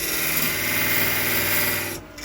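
A woodturning tool cuts a small ledge into a spinning wooden ring for a magician's ball and vase, a loud continuous rasping hiss that holds steady, then fades briefly near the end.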